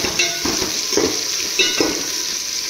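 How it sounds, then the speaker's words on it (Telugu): Onions fry in a pan with a constant close sizzle while a spoon stirs them in a few rhythmic scrapes and taps against the metal, with no talking. "ఉల్లిపాయలు బాగా వేగిస్తూ"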